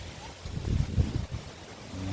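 Low, rumbling wind buffets the microphone in uneven gusts in Batangas, Philippines, swelling loudest midway before easing into a steadier hum.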